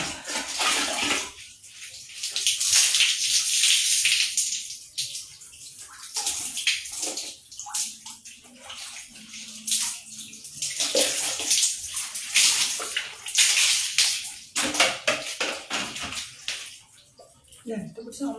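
Water from a tap runs and splashes while someone bathes indoors, rising and falling in bursts of gushing and pouring, with a voice talking intermittently over it.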